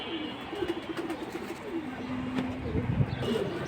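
Pigeons coo in low, soft bursts amid a busy market hum, with the birds kept at a pigeon market selling Khaki, Silver Bezi, Hammer, Platinum and Jelly Pankhi breeds; faint chirps mix into the background.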